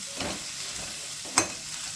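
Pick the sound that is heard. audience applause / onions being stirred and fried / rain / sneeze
onions being stirred and fried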